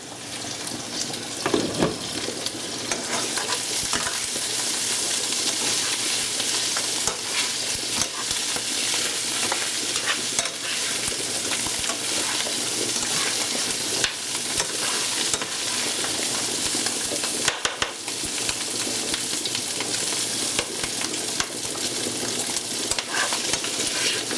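Meatballs sizzle and fry steadily in a pan for spaghetti and meatballs, with scraping stirring strokes breaking through the continuous close, loud crackle.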